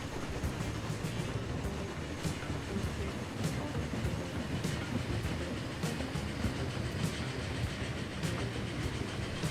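A train rolls steadily along a rail line in Transport Fever 2, a dense continuous rumble with faint periodic clicks from the wheels over rail joints, loud and unbroken throughout.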